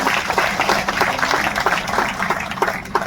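Audience applause for the chief guest at the inauguration of India's first constitution museum, steady dense clapping throughout at close range.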